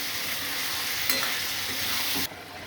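Chicken for morog polao frying in a pan while being stirred, a steady loud sizzle with scraping strokes of the spoon, ending in a softer hiss.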